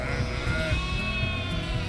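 Sheep bleat on a farm where guard dogs protect the flock, with overlapping drawn-out calls from several animals, fairly loud and continuous, and no talking.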